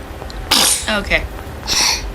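A baby gives a couple of small, sharp sneezes close to the mic, with a quieter third burst, while an adult voice chimes in softly between them.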